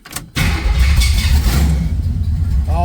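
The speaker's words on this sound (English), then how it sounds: "All right, let's fire up." A 1979 Pontiac Trans Am V8 with no exhaust cranks briefly, catches and bursts into a loud, steady, raw idle with a rough rev, close by and with no talking.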